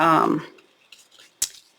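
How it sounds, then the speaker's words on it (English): Ribbon scissors snipping off a ribbon end on a handmade card, a single sharp close cut following a voice, with a faint slide of the blades just before. "I'm going to take my ribbon scissors and lop that off"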